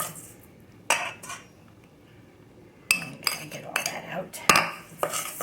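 A fork stirs cheesecake crust crumbs in a glass dish, giving irregular sharp clinks and scraping taps against the dish, close by, with quiet background between bursts.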